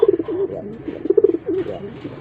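A recovered young pigeon coos repeatedly in a low, throaty, rolling rhythm, close and fairly loud, with short pauses between the phrases and no talk.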